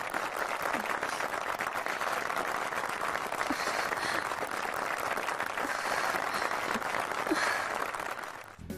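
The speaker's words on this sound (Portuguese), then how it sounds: "As pessoas simplesmente adoraram, aplaudiram como loucos." An audience applauds after a piano concert, steady dense clapping from a crowd that holds for several seconds and then fades out at the end.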